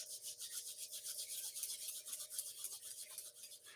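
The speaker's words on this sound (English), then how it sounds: "rubbing those hands vigorously through closed eyes" Hands rubbing together vigorously in a quiet meditation setting, a steady, close, rapid swishing friction that continues without pause, with no talking over it.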